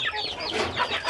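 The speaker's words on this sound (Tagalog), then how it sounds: "Grabe, sa kadaghan ilang manok guys." A large flock of chickens clucking together, a dense, continuous chorus of overlapping squawks and clucks, close and loud.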